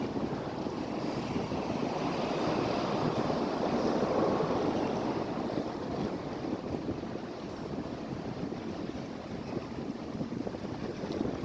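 Catalina Express passenger boat cruising through open water, a steady broadband rush of hull wash and engine with wind buffeting the microphone, loud and continuous without any voices.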